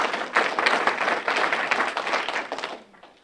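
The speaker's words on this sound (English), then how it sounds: "I think that warranted more than tepid applause" An audience at an award ceremony gives modest applause: a steady patter of many hands that stays fairly even, then trails off near the end.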